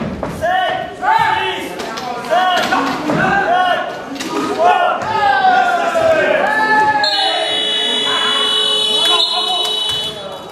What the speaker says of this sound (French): Buzzer de fin de possession pour Lyon.